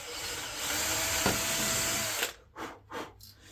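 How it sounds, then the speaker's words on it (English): A power drill bores pilot holes into wood, a sustained whirring whine for about two seconds, then stops and gives a few short bursts as the trigger is pulsed. "So now, I'm going to use the drill and make a pilot hole."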